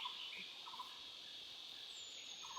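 Insect chirps carry through an outdoor walk by the water in March, a steady high buzzing drone with a few brief brighter calls on top, faint and distant, with nobody talking.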